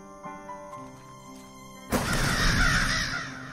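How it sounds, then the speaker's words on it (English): Crows caw in the eerie atmosphere of the video game The Last Door, a harsh burst of calls arriving suddenly over a quiet, humming ambient background. "The crows."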